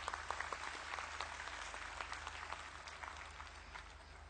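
An audience at a spiritual gathering claps in welcome, a soft, fairly distant patter of many hands that continues steadily for a few seconds and slowly fades.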